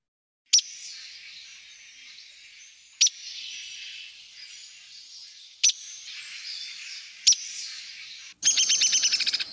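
A bird repeats harsh, buzzy scolding calls, each opening with a sharp click and spaced a few seconds apart, then ends with a rapid stuttering descending call; close and clear against a quiet outdoor background.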